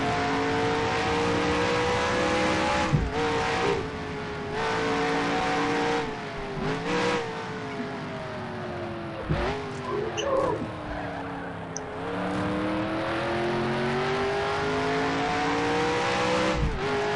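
A stock car in the NASCAR Heat racing game accelerates hard, its engine rising in pitch through a series of gear changes roughly every few seconds, droning steadily and close with no talk over it.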